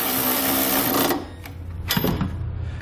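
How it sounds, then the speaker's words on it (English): A 19mm socket spinning trailer hitch bolts into frame weld nuts, with a fast buzzing whir for about a second that cuts off, then a few sharp metallic clicks and clanks nearby, no speech. "I'm going to come back with a 19mm socket."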